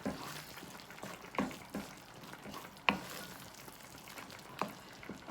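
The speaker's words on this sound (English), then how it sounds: "Just going to fold these into the mixture so they're all coated in the sauce." Sausages and peas being folded into a homemade tomato sauce in a pan, heard as a steady soft sizzle broken by several sharp stirring scrapes and wet clacks at uneven intervals, close by and without speech.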